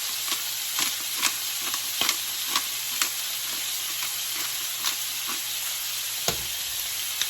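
Pork belly sautéing in a pan, a constant bright sizzle and crackle with small pops and occasional utensil clicks as it is stirred.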